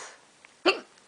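A person's hiccups in a quiet room: a sudden, loud hiccup burst, then a short pause and a second sharp hiccup cut off at the end.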